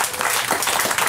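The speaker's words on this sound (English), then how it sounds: "By applause, how many of you have children here with us tonight?" Comedy club audience applauding after a stand-up comic's question to the crowd, a short steady burst of clapping filling the room at moderate loudness without voices.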